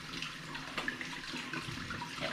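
Tap water runs steadily into a sink as hands are rinsed under it, a close, continuous splashing stream with small irregular spatters and no speech.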